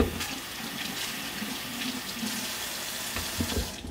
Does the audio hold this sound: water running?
yes